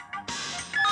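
An indoor telephone ringing, a short electronic tone that starts, then fills out into a steady bright ring close by.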